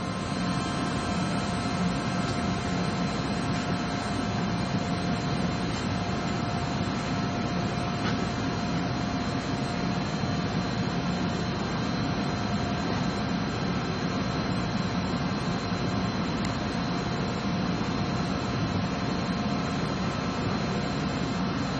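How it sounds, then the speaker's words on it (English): A 10 horsepower main motor drives a machine fitted with an air clutch and brake, giving a steady, unbroken hum with a constant tonal whine that holds at one level throughout, with no other sounds. "The main motor is a 10 horsepower motor."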